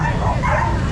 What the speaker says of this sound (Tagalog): para kunin itong mga aso na nakatali dito sa